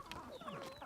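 A chicken clucks in a short burst of a few close, moderately quiet calls with no talking.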